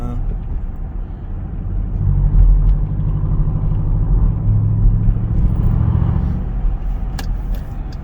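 A Dodge Durango SRT cruises in eco mode at night, with a steady low engine rumble and road noise from inside the cabin and a few faint clicks near the end.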